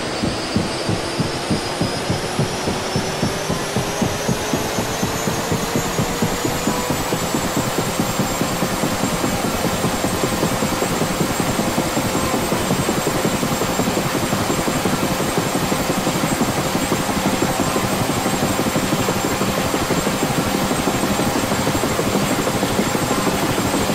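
A Huey helicopter in the DCS flight simulator starts its engine. A turbine whine rises steadily over the first several seconds, then levels off into a loud, constant drone. Rapid rotor chop beats throughout as the blades spin up.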